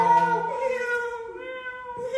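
A person imitating a cat's meow during a live show game, a drawn-out, wavering nasal mew lasting about two seconds, alone and fairly close.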